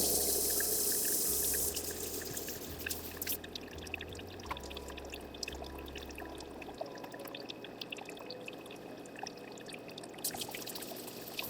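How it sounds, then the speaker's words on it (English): A Nespresso machine descaling: water pours briefly into a container, then settles into a quiet trickle with small scattered drips. "the machine is now starting the descaling process. It's dripping some of the water into my container."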